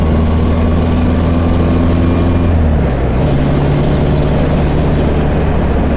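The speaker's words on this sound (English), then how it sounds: "Great sound out of the engine, out of the exhaust." A 1961 Morgan Plus 4 British sports car drones loudly while driving, its engine and exhaust giving a steady low rumble whose pitch drops as it shifts partway through, close and continuous with no talk.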